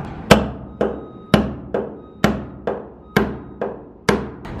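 A hammer strikes wooden boards about nine times at a steady, unhurried pace, each blow a loud, sharp crack with a brief ring. The work is done near a shipping container where cars are loaded for export from Dubai. No voices are heard.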